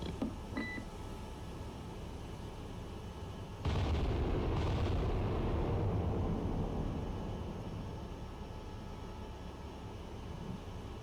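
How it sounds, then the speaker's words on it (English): The main guns of the battleship USS Iowa fire in the naval game Cold Waters, one heavy booming blast that rolls out into a long rumbling decay over steady ambient drone, with no talk. "Bridge, battery, guns engaging."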